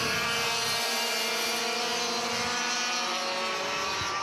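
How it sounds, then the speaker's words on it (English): Racing kart engines at the 2010 City of Adelaide Kart Titles, Clubman Over 40s final, drone steadily and loudly past on the circuit with a continuous high buzzing whine over about four seconds, with no speech. "Now Tolma goes through, Lane gives it a bit of fuel."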